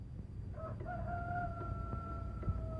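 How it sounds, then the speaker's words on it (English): A rooster crows once, fairly distant, its drawn-out call rising and holding over a low background rumble. "Listen to that rooster crow."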